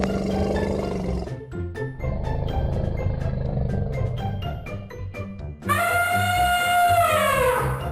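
An elephant trumpets in a loud, sustained blast with a rising then falling wavering tone, following a stretch of dense roaring and rumbling animal calls.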